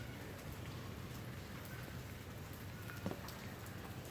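Steady rain falls in Lahore, a dense, even hiss of drops striking surfaces close by, with a brief sharper patter near the end and no talking.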